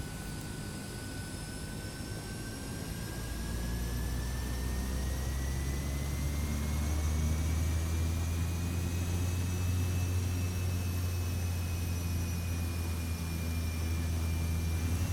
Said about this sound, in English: we're going to release the parking brake and taxi to the runway